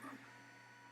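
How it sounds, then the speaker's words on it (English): An office printer runs steadily for about a second, a continuous mechanical whir with a brief louder burst at the start, no voices present. "I was listening to the printer."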